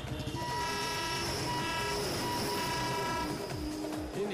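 A train in India sounds sustained tonal horn blasts over a dense, rumbling rail din. The noise is loud and continuous throughout.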